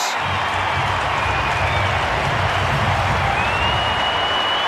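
A large home crowd of Eagles fans at Perth Stadium roars in a sustained, dense wall of cheering and applause during an AFL derby against Fremantle, loud and continuous, with a faint whistle-like tone running through it.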